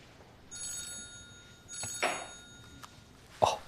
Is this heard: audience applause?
no